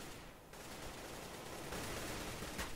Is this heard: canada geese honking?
no